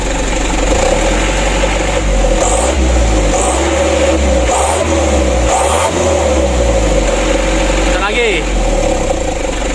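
An engine is revved during a repair test of a Bosch injection pump, giving a loud, steady, close-up drone with several short rises in pitch from throttle blips, and voices are heard over it.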